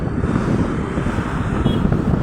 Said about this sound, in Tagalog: Kasi malakas yung hangin dahil siguro po ito sa bagyong parating.